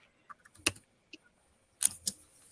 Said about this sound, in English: Somebody's typing. It sounds like each individual key is mic'd up.